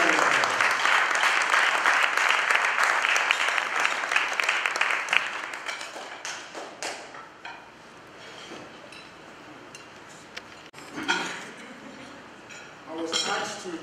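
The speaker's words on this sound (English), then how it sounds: "Please, let's give him a big round of applause." A conference audience gives a strong round of applause as a speaker is welcomed to the podium, dense at first and then fading into scattered claps, light clinks and murmuring voices.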